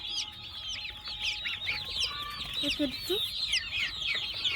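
Chickens on a poultry farm where some birds are sick, clucking and calling continuously in a dense, steady chorus with no talk.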